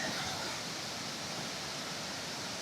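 A waterfall on a mountain trail near Chiang Mai, Thailand, rushing as a steady, dense, loud wash of water with no pauses and no voices.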